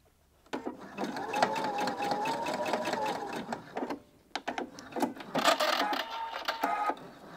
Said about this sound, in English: I'm going to top stitch and I'm going to use the edge of the binding as my guide